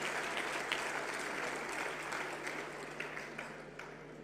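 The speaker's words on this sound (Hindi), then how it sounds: "एक बार जोरदार तालियां मैं चाहूंगी" A large audience applauds steadily at the closing ceremony of the 12th World Hindi Conference, a dense, sustained wash of clapping from many hands that slowly tapers toward the end.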